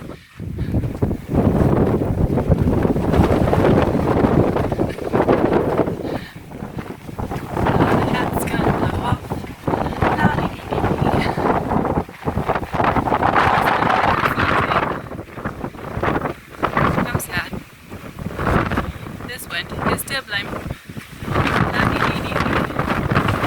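Strong wind gusts roar steadily across the microphone on a Pacific Crest Trail thru-hike, a loud, continuous rushing buffet that swells and dips with sharp blustery bursts throughout.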